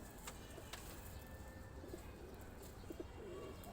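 A pigeon gives a few low, soft coos at a distance over a faint, steady background hiss, with a light chirp now and then.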